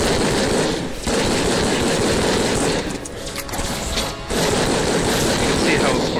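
Turret gunfire in the VR game Raw Data on the Thundershock map: loud, sustained rapid-fire shooting that roars almost without pause, briefly dipping twice before resuming at full intensity.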